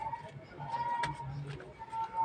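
A pigeon coos softly in low, rounded notes that repeat through a quiet scene, with faint background noise around it.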